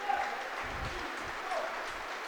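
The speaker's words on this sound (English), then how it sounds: "you got a round of applause from the Killie fans" Kilmarnock supporters at a football match applaud a player leaving the pitch as a substitute. The clapping is soft, distant and steady, heard under a faint crowd murmur.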